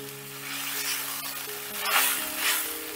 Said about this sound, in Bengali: এবারে এই টমেটোটা দিয়েও আমি বেশ ভালো করে কষে নেব